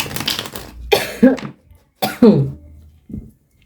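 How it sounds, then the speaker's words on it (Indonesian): Two sharp, harsh coughs in quick succession, each with a rough voiced tail, then a short softer throat sound, all close to the microphone. "agak nggak lancar karena aku masih batuk"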